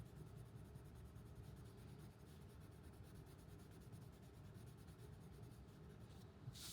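Colored pencil blender pressed hard over layered colored pencil on paper, making a soft, continuous scratchy rubbing close up, steady throughout.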